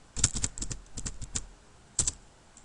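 Keys clatter on a computer keyboard as code is typed, in quick clustered bursts of sharp clicks with short pauses, close and alone.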